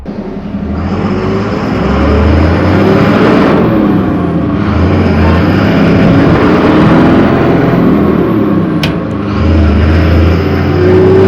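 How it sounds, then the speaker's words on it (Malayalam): A brand new 12 m Leyland bus is being driven, its engine producing a loud, steady rumbling drone with road noise that holds throughout, with no voices over it. "അപ്പോൾ നമുക്കൊന്ന് വണ്ടി ഒന്ന് ഓടിച്ച് നോക്കാം"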